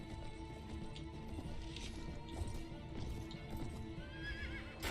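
Horses in the medieval video game Mount & Blade gallop with rapid, continuous hoofbeats, and a shrill whinny rises near the end over the steady drumming.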